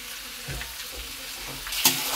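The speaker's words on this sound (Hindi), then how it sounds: "अब हम इसमें डालेंगे कटे हुए ककौड़े। अच्छे से चला लेंगे" Chopped spiny gourd (kakoda) sizzling in a frying pan while being stirred, a steady close hiss with scraping stir strokes at intervals and a brighter flare of sizzle near the end.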